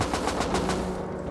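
Rapid bursts of automatic gunfire in the survival video game Rust, loud and close, firing in quick repeated volleys across the whole moment with no talk over it.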